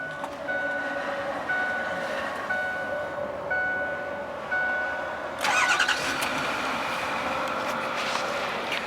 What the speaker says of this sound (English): we're going to go ahead and start it up